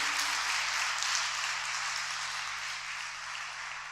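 Loud, sustained applause from a church congregation for a pastor, a dense steady wash of clapping that fills the whole stretch and eases off slightly toward the end, with no voices on top.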